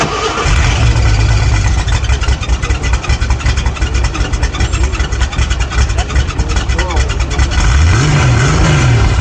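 A four-barrel carbureted car engine revs up loudly and holds a strong roar close by, then drops back toward idle and rises again near the end.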